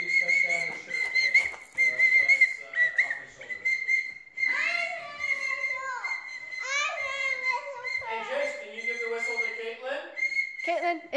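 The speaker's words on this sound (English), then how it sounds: "You're playing the whistle?" A child blows a whistle in short, shrill bursts, interspersed with a voice and fussy vocal sounds nearby.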